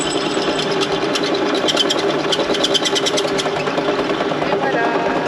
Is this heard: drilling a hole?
yes